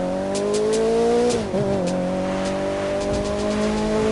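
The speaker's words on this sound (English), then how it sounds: "Listen to those engines roar." Race car engines roar and rev steadily with pitch shifts as they change gear, with some tire squeal, loud and close, in the racing video game The Crew 2.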